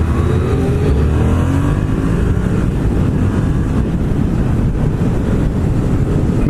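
Two-cylinder Yamaha MT-07 (FZ-07) motorcycle engine pulling hard under acceleration, a loud, steady roar with rising pitch and heavy wind buffeting over the microphone throughout, no talking.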